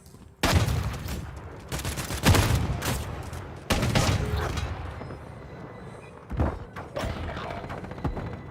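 Gunfire in a Modern Warfare III multiplayer Search and Destroy match, loud bursts of rapid automatic shots and heavy thumps in several clusters with short gaps between them, close and dense, with no talk.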